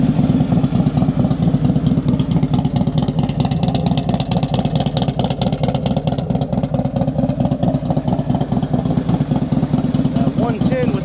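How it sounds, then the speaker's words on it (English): A Harley-Davidson Electra Glide FLHT with a 110 engine and D&D Fat Cat exhaust idles close and loud, a deep, continuous, lumpy lope with steady pulsing throughout. "That 110 with the D&D Fat Cat makes for a good lope."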